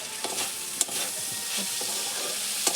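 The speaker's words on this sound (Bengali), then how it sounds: "ভালো করে কষানো হয়ে গেছে," Spices are stir-fried for a mola fish curry, a continuous close sizzle broken by a few sharp clicks of the spatula against the pan, with no one speaking.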